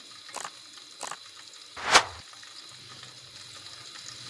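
Onion and ginger fry in a pan for quick chicken nihari, giving soft steady sizzling with a few brief crackles and one louder spattering burst.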